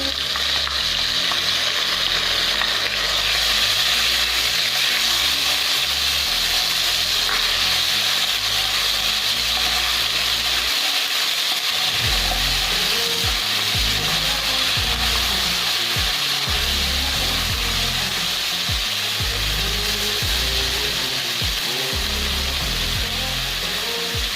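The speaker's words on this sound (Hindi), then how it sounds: "अब हम इसमें लहसुन अदरक का पेस्ट डालेंगे।" Garlic ginger paste sizzles and fries in hot oil for white chicken karahi, a loud continuous crackle that runs throughout, with stirring scrapes becoming more rhythmic in the second half.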